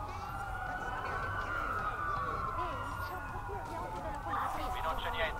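Police car sirens wail around a stadium in Watch Dogs, several wailing tones sweeping up and down together at a moderate distance, steady throughout over a low rumble of traffic.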